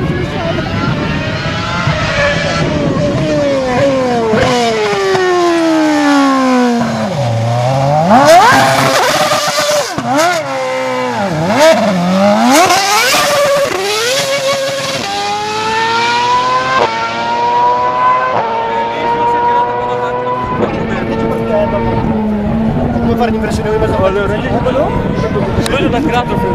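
A Ferrari F2008 Formula 1 car is launched and does a burnout, its engine screaming through sharp rising and falling revs, loud and close for the whole stretch, with people talking over it.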